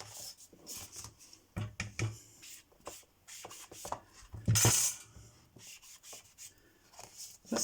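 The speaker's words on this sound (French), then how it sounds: "Je vais ancrer les bords." Paper edges are rubbed against an ink pad in a string of short, irregular dabbing and scraping strokes, close and fairly quiet, with one louder, longer rub near the middle.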